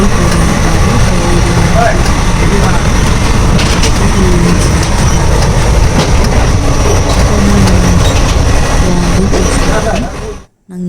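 Passenger train rolling along the rails, a loud continuous rumble with rhythmic clickety-clack of wheels on track joints, heard from inside the carriage, cutting off abruptly at the end.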